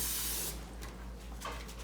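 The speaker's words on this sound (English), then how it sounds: "I have my 9-inch cake pan prepared here. I am going to spray the pan." Cooking spray hisses onto a 9-inch cake pan in one loud, close half-second burst, followed by a few fainter clicks and brief sprays over low background hum.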